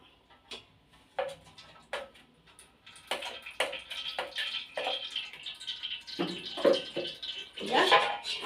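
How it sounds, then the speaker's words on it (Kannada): Cooked drumstick juice strained into a vessel, heard as scattered clicks and knocks of utensils followed by bursts of pouring and splashing liquid that grow louder toward the end. "ಇದನ್ನ ಫಿಲ್ಟರ್ ಮಾಡ್ಕೊಳ್ಳೋಣ ಒಂದು ಜಲ್ಡೆಗೆ ಇದನ್ನ ಹಾಕ್ಕೊಳ್ಳೋಣ"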